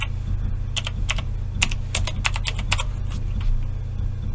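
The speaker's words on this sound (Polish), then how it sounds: "I piszę blobfish." A file name is typed on a computer keyboard: a short run of crisp, close key clicks at an uneven pace over a steady low electrical hum, with no voices.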